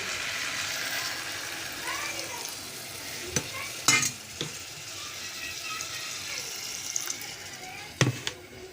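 A spatula scrapes and stirs cluster bean and potato curry with coconut and a little water in a sizzling pan, giving a few sharp clacks against the metal over continuous frying hiss.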